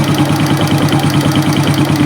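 A Suzuki Smash motorcycle engine, running hot, idles steadily up close with a rapid, rhythmic knocking throb and a constant hissing rattle, no voices.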